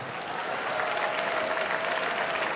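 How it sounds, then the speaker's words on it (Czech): A hall audience at the Miss Czech Republic 2022 finale gives the pageant's partners a big round of applause, a thick, continuous roar of clapping from a large crowd that holds steady throughout. "o jeden velký potlesk pro každého z nich a pro všechny dohromady"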